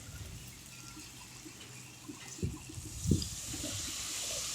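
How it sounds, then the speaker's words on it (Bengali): Water pours into a cooking pot for a vegetarian dhokar dalna, a soft, steady trickle and splash with a few louder gurgles, fairly quiet and heard alone. "এবার দিয়ে দিচ্ছি পরিমাণ মতন জল"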